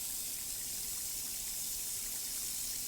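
Water running steadily from a faucet over a hand at a sink, a continuous close hiss with no pauses.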